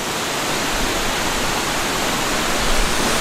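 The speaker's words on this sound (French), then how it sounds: "Puis là, t'as la cascade." Waterfall on a mountain hike, a steady broadband rush of falling water holding constant and close throughout, with no voices over it.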